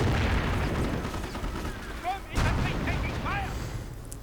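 Artillery booms and rumbles in a real-time strategy battle, dense low blasts layered with distant explosions and faint whistling rounds, heard under a commentator talking.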